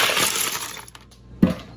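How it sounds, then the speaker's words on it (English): Ice cubes tumble over cucumbers for homemade pickles, a loud rattling pour that fades out, then a single hard clink near the end. "we're going to cover them in ice cubes"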